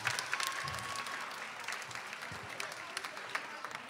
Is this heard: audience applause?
yes